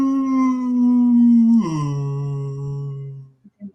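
A voice imitates a sick cat with a long, wavering howl that slides downward in pitch, ending in a couple of short breathy sounds.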